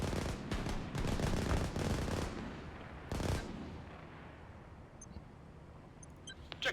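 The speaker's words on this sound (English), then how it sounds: "we have artillery, so we're going to call that in too" Called-in artillery barrage in the war strategy game Systemic War: several loud, close blasts in quick succession, then a lone heavier burst, fading into a low rumble with faint beeps near the end.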